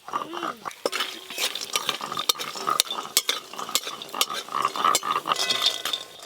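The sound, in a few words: frying lentil dumplings (bori) in mustard oil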